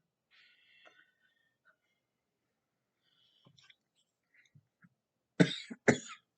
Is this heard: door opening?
no